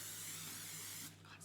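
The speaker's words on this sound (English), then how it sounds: "almost forgot the heat spray." Heat protection spray hisses onto hair in one continuous burst of about a second before cutting off, close and fairly soft.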